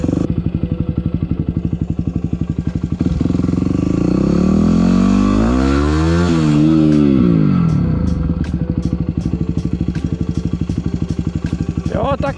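A motorcycle accelerates hard in first gear through an industrial zone, its engine rising in pitch with a loud, close rev that swells and falls back, then settles into a rough rhythmic idle with sharp mechanical ticks.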